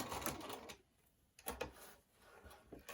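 A sewing machine stitches a mug rug's binding forward and back in short quiet bursts, with brief pauses between runs.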